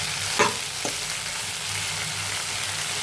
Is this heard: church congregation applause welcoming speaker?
no